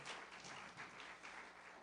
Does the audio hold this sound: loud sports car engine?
no